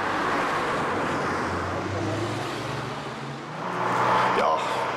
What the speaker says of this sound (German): Selbst an einem ruhigen Freitag fahren doch noch einige Autos vorbei.